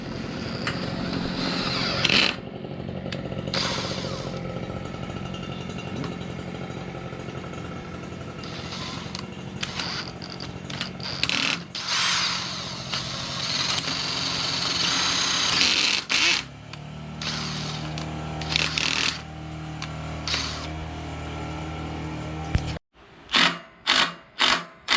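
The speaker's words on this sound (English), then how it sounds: "I'm gonna drill a bigger hole in there and try to shove another screw in there" A power drill bores a larger screw hole into the mower deck of a Craftsman LT2000 lawn tractor, whining in long steady bursts with pauses, then a few short stop-start pulses at the end.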